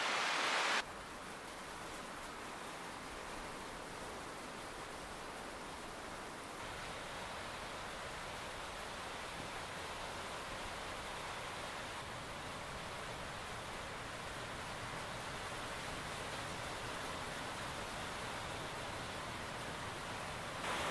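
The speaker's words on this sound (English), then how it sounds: "And the rain's getting heavier." Heavy rain drums on a metallic barn in Scotland, a dense, unbroken hiss and patter that stays loud and steady throughout with no voices.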